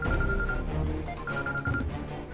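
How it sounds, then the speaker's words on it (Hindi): A telephone rings in two electronic bursts with a short gap between them, loud and close over a busy background, announcing a call from a lawyer. "भाई वकील का फोन"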